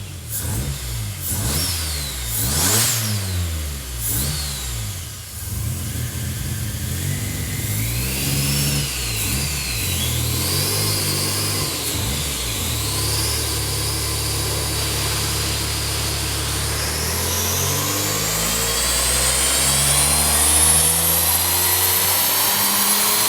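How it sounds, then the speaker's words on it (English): Toyota V6 with a turbocharger on only half its cylinders, running close by and revving hard in repeated rising and falling sweeps, then settling into a steady climbing drone with no talking. "I'm just curious to see if we can still run it as an aspirated motor"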